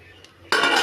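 A lid set onto a cooking pot of black peas: after a near-silent moment, a single sharp metallic clank rings out briefly, close and loud.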